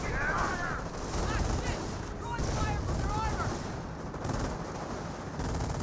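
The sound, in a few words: Panzergrenadiers firing guns in Company of Heroes video game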